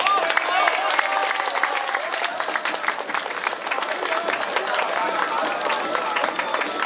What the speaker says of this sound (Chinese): 俾啲掌声！